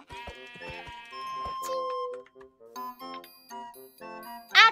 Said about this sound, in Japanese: 羊の集落だ